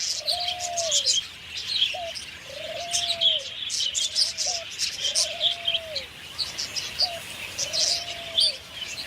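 Cockatoos and other parrots call in a steady series of drawn-out, arching cries, about six in nine seconds, over a constant wash of high chirping and rustling from other birds.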